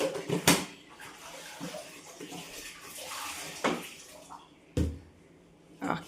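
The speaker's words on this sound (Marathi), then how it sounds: "तर आता सौख्या लिंबू पाणी गाळून घेते." Lemon water, made with a pinch of salt, is strained in a home kitchen: soft trickling and splashing with a few sharper pours and drips, fairly quiet and close.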